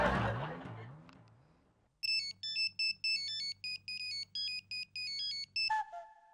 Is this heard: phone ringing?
yes